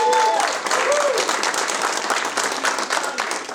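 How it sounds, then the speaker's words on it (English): Audience applause at a meeting, honoring a U.S. Air Force Reserves veteran; steady dense clapping fills the whole stretch, loud and close, with a brief voice at the start. "Round of applause for that."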